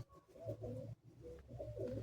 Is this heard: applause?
no